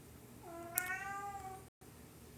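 A single drawn-out cat meow at night, rising and falling in pitch with clear harmonics, close and fairly loud, followed by a brief break and quiet background.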